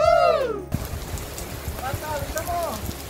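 Steady rain falls at a beach resort in Infanta, Quezon, making a continuous hissing patter. A loud voice calls out briefly at the start, and other voices are heard faintly through the rain.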